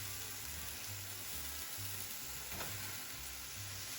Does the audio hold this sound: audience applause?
no